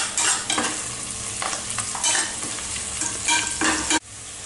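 Onions sauté in a pan with a loud, continuous hiss, stirred in repeated scraping strokes until the sound cuts off abruptly near the end.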